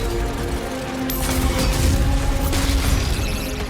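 Gunfire from DOOM The Dark Ages builds into a dense, continuous barrage of shots and mechanical clatter layered over a loud game soundscape, with no talking.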